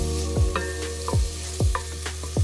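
Onions with a little salt sautéing in a pan, steady sizzling under four evenly spaced low swooshing scrapes from a spoon moving the onions, close and clear with no talking.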